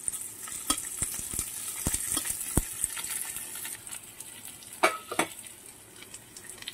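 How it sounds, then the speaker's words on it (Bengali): Chopped onions frying in a pan for a dried shrimp bharta sizzle steadily, broken by sharp stirring clicks and scrapes, a couple of louder knocks near the end, with no talking. "পেঁয়াজগুলোকেও হালকা ভেজে নেব।"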